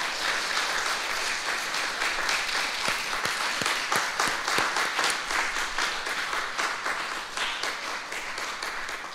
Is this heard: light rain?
no